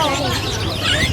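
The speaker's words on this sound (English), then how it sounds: "Wow, they have a ton of birds here." Many caged birds at a bird market in Yogyakarta, Indonesia, fill the air with a dense wash of chirps and tweets, heard beneath people talking nearby.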